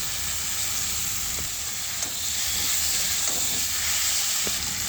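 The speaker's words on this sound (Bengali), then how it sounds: "সেদ্ধ করা রেখে আলুগুলো দিয়ে দেবো এবারে এবারে লাউটা দিয়ে দেবো" Bottle gourd and potatoes sizzle in a spiced paste of chilli and ginger, a steady close frying hiss running throughout with a few faint clicks of stirring and no talk.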